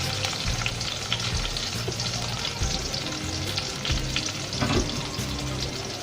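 Onion, garlic and dried chili fry in hot oil with a loud, continuous close-up sizzle, mixed with occasional stirring clatters throughout.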